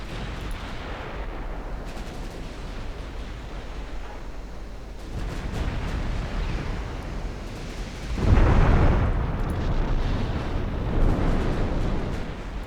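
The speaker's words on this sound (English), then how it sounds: "If we get closer, we can start going through this battlecruiser with our 10-inch guns." Heavy 10-inch naval guns boom in the Ultimate Admiral Dreadnoughts naval warfare game, deep rumbling blasts rolling over a continuous low roar, with a louder, closer report near the end.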